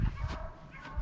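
Hunting dogs in a check while tracking a rabbit near a pond in southwest Virginia, giving a few short outdoor yips and barks with low rustling between them.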